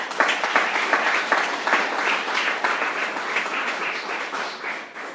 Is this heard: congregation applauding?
yes